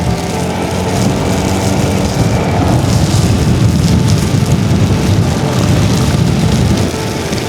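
Steady, loud rain hisses and roars without a break during a long highway motorcycle ride from Manila to Bicol on Yamaha XMAX 300 and Honda Click scooters, with wind and road noise blended in and no speech.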